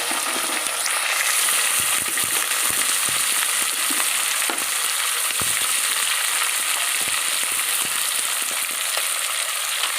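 Onions and cashews frying in oil in a pan, a steady loud close sizzle with scattered scraping and clinking from stirring throughout, no voices.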